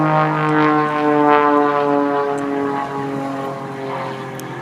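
An aerobatic airplane flies a square loop at an airshow with very hard 90-degree corners; its loud, steady propeller-engine drone hums continuously, shifting slightly in pitch and easing a little as the maneuver goes on.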